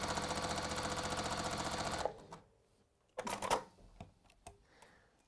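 A sewing machine stitches down the side of a project in a fast, even run for about two seconds, then stops, followed by scattered handling clicks and rustles.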